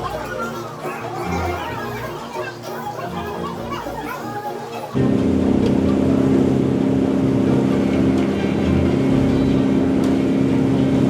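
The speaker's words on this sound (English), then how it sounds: "take the water taxi over to Disney Springs" A Disney water taxi motor starts up and runs steadily, a loud low drone under crowd chatter and children's voices, joining busy outdoor ambience midway through.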